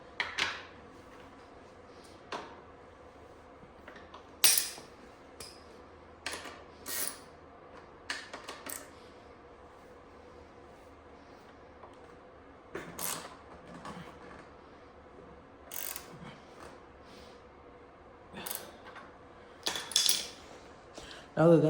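A socket wrench tightens the axle on a Sur-Ron electric dirt bike during a wheel install. Scattered faint metallic clicks and clinks come in short bursts over a quiet background.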